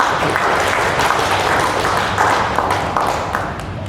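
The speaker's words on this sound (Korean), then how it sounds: "큰 박수로 맞이해주시기 바라겠습니다." Audience at an academic conference in Korea giving a speaker a warm welcome, loud dense clapping sustained throughout and fading slightly at the end.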